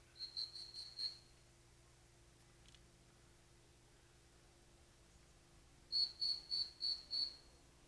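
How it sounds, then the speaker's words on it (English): A dog handler's whistle at a retriever demonstration at the Ohio State Fair, with two bursts of rapid, shrill pips, one at the start and one near the end, heard from a distance and fairly faint. "Notice the whistle."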